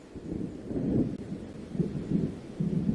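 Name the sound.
thunder of an approaching storm in the video game Alan Wake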